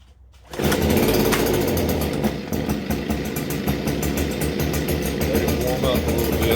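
A Stihl BG56c handheld leaf blower engine, fitted with a new carburetor, starts abruptly after a short quiet moment and then runs loud and steady at a high buzzing two-stroke pitch, dipping slightly once before holding.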